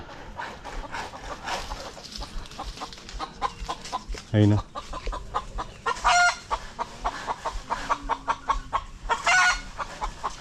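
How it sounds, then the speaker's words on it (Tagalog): Chickens cluck repeatedly in irregular bursts close by, with occasional louder squawks and a person speaking briefly in between. "Huli natin yung manok mga master"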